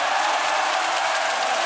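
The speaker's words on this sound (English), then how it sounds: "And now the crowd's going wild" Basketball arena crowd at a Taipei Fubon Braves versus Singapore Slingers ASEAN Basketball League game, a steady loud roar of cheering that holds at the same level throughout, with no distinct claps or voices standing out.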